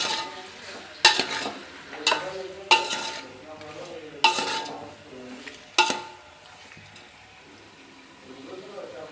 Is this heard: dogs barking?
no